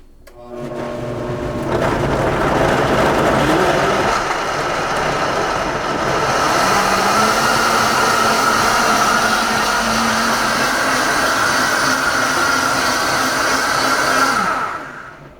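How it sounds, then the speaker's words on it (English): A blender whirs steadily as a green smoothie of Gala apple and water blends, a loud continuous motor roar that starts, shifts pitch slightly partway through as the mix smooths out, then cuts off. "And we blend."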